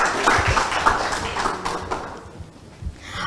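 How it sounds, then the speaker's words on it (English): Audience applause closing a school debate competition, a dense patter of many hands clapping at moderate loudness that thins out toward the end, with a few sharper individual claps standing out. "Please give them a big round of applause and you may return to your seat."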